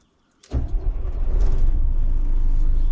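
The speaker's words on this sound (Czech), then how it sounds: "provedeme zážeh, abyste slyšeli ten motor, jak nám pěkně naskočí." A Karosa C 935 Récréo bus engine starts after a second of silence: one sharp crank, then a loud, deep diesel rumble that steadies into a continuous idle close by.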